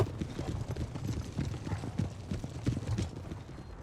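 Hussar cavalry horses move across a Napoleon Total War battlefield, their hooves clip-clopping in a busy, overlapping patter that stays close and steady throughout.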